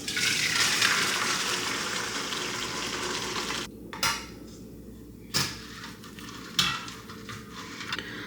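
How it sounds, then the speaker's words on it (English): Oil steeped with hibiscus leaves heats in a double boiler, giving a steady close sizzling hiss broken by a few soft clinks of a pot or utensil. "I'm gonna bring this over to my double boiler and get it heated to infuse all these"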